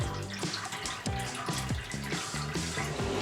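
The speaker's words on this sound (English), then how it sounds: "Aim, I'm filling up the water tank for the first time" Water runs and splashes into a boat's water tank as it is filled, a steady close gurgling stream with irregular sloshing pulses and no voices.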